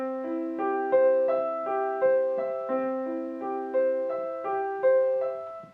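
A Bach keyboard piece played through its first two measures: a steady stream of bright, evenly spaced notes forming broken-chord patterns with a regular pulse, clear and close, with no voices.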